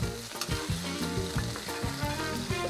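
Shiitake mushrooms sautéing in butter in a pan, sizzling loudly and close, with repeated stirring and scraping knocks in an irregular rhythm.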